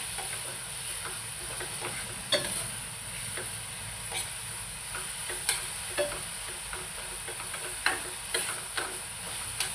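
Onions reddened with chilli powder fry in a kadhai while a spoon stirs them, a steady soft sizzle with scattered scraping clicks at irregular intervals.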